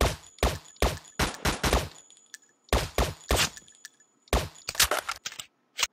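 Rapid bursts of gunfire from the browser shooter game Weapon, several loud automatic volleys separated by short pauses, with a faint high electronic tone between shots and no talking.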